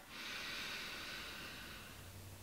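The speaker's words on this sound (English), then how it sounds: "Try breathing in for a count of five" A slow, deep inhaled breath drawn in steadily and close up, a soft airy hiss that holds for about two seconds without any talking.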